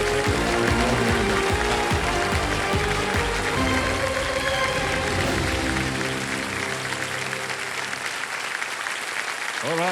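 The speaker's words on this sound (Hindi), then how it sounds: "तालियां बज जाए इनके लिए।" Studio audience applause on a televised quiz show fills the whole stretch as a dense, steady wash of clapping, loud and continuous, sent off for a departing contestant, with a faint voice and music underneath.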